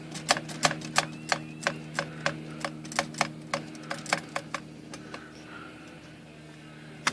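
Sharp mechanical keystrokes from a Corona Four typewriter clack at a fairly steady pace, thinning out toward the end, over a low constant hum.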